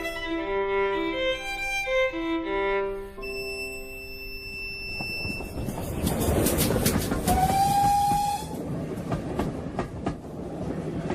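A steam passenger train running on rails fills a period TV drama scene. Clattering wheels and a steady rolling rumble build under and after a musical passage, and a whistle sounds partway through.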